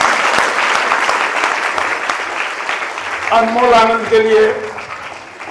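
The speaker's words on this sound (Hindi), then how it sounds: "जोरदार ताली" Loud applause from an audience at a school award ceremony fills the opening seconds, then fades as someone speaks over the end.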